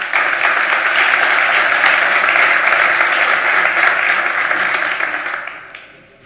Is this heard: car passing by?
no